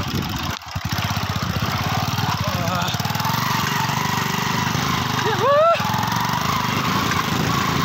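A motorcycle engine strains steadily uphill near Sandakpur, struggling to pull, with a continuous mid-pitched drone that briefly rises in pitch as the throttle is worked.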